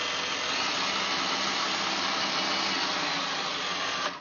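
Electric motor of an MN128 Jeep Wrangler RC crawler whining steadily under throttle for about four seconds, close and fairly loud, then cutting off abruptly.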